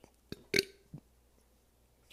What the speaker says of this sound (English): Yoshi, stop burping!